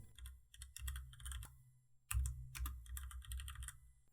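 Close, crisp keystrokes clatter in quick bursts on a computer keyboard, with short pauses and a louder run of typing midway, with no talking.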